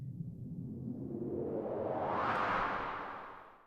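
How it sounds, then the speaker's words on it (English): White noise swept upward by a filter, rising from a dull rumble to a bright hiss over a few seconds, then fading slightly. "you just kind of get that white noise sound, but listen as I increase the frequency"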